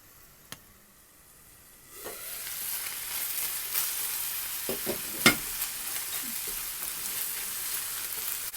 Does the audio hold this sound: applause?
no